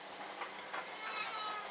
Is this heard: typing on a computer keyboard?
no